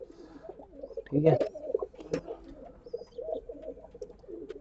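Breeding pigeons of a Punjabi flying breed coo softly in a loft during monsoon season, low rolling calls repeating close by, one fuller burst standing out, while someone speaks briefly over them.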